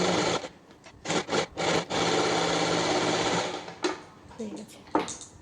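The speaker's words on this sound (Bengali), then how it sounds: "এবার আমি ব্লাউজ পিসের যে ধারের জায়গাগুলো আছে সেগুলো একবারে সেলাই করে নিয়ে লক করে নেব" Sewing machine stitching along the edges of a blouse piece in short bursts, then one longer steady run of rapid needle clatter, close and clear, with brief pauses and faint handling noises between.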